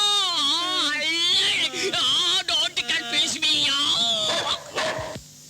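A voice imitates a barking dog with loud, wavering howls, yelps and whimpering yips in quick, uneven bursts, close to the microphone, in a Tamil comedy film scene.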